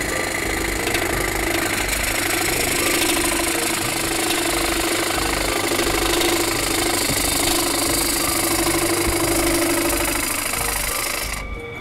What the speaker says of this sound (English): you can use butt cut with both wings simultaneously if the material tends to dig a bit, which is shear scraping